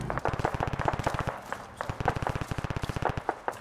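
Rapid, heavy automatic gunfire from the tactical shooter game Squad, a dense run of sharp repeated shots with a few louder cracks mixed in, steady and unbroken throughout, with no talk over it.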